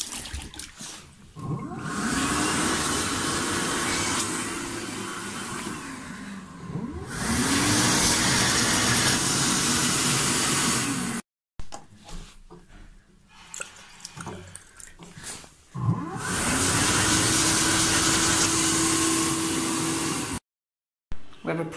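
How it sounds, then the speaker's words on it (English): An electric hand dryer runs three times, each time starting with a rising motor whine into a loud, steady rush of air that lasts several seconds before cutting off. "We have a pro elect dryer."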